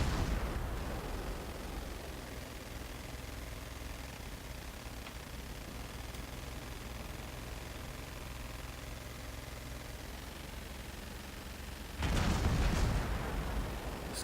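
Battleship Fuso's turrets fire in a naval video game: a steady low rumble of ambient sea and engine noise runs throughout, then a single loud, broad boom of a salvo bursts out near the end.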